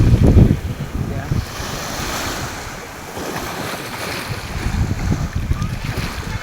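Ocean waves wash in at high tide on a Batangas shore, with a continuous rushing surf, low rumbling swells and gusts of wind noise buffeting the microphone.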